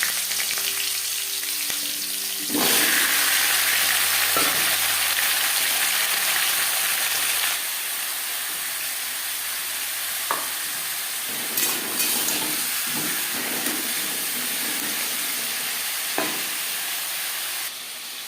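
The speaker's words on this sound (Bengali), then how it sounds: "জিরে ভেজে নেওয়ার পর দিয়ে দেবো কুমড়ো" Pumpkin pieces hiss and sizzle loudly in hot oil with fried whole cumin seeds for a Bengali vegetarian spinach ghonto, a steady crackling fry broken by a few soft stirring knocks, with no talking.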